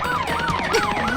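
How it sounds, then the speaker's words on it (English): A cartoon police car siren wails loudly in a children's cartoon, a fast, continuous up-and-down sweep that repeats close and alone. "A police car! Run!"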